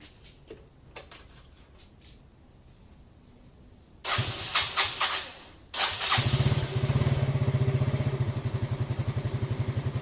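A Yamaha Fino motorcycle engine cranks, then catches and settles into a steady close idle after a couple of attempts, preceded by light clicks and handling noises.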